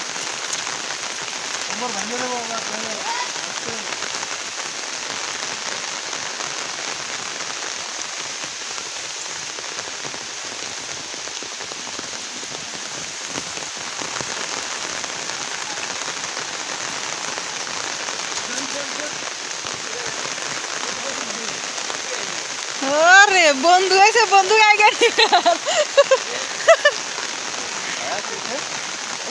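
Heavy rain pours steadily onto the ground and surfaces while a man bathes outdoors in it, a continuous dense hiss under lively Bengali talk and laughter, with a burst of louder voices near the end.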